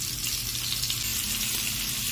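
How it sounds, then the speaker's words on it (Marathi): Prawns (kolambi) coated in semolina frying in hot oil on a tawa, a steady close hiss and sizzle with no voices. "तव्यावरती आपण तेल गरम केलेलं आहे। एक एक करून आपण असे कोलंबी ह्याच्यामध्ये टाकायचे।"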